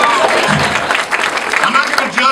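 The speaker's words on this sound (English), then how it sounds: "Clap it up for the cokie," Comedy club audience at an improv show applauding and cheering, a loud dense burst of clapping with crowd noise and voices mixed in.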